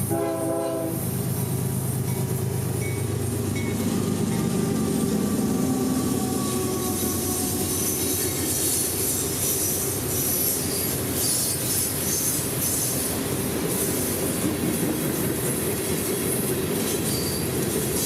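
CSX freight train L729, roughly 8,000 feet long and led by locomotives 2915 and 5468, passes at Richland on the S-Line. A horn sounds at the start, followed by a loud, steady roar of rolling cars with squealing wheels throughout.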